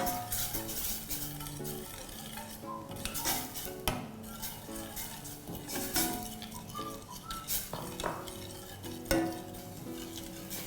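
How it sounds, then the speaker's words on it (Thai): Green curry paste being stir-fried in a pan over low heat for chicken green curry, with a spoon clinking and scraping against the pan in an irregular rhythm over a faint sizzle. "ผัดไปเรื่อยๆจนกระทั่งแตกมันนะคะ"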